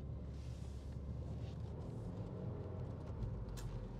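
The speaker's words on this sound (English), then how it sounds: "now we're in drive, and we'll just do a little bit of a cruise here and see how the gearbox behaves" A 2021 Subaru WRX with a CVT gearbox cruising on the road: a steady low engine and road rumble fills the cabin, with some wind noise and no talking.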